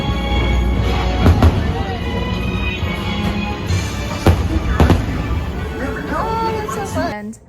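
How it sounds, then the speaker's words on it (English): Fireworks popping and bursting at a distance over Tomorrowland at Disney, several sharp cracks scattered over a crowd's murmur and nearby voices. "so we got to see the fireworks from there"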